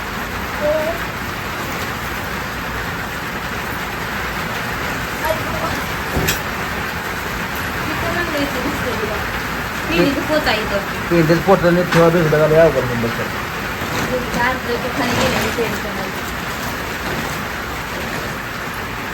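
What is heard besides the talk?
heavy rain falling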